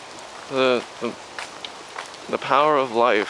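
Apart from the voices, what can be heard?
rain falling in a garden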